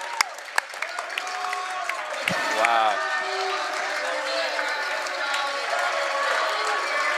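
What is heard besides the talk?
ovation from the visiting basketball crowd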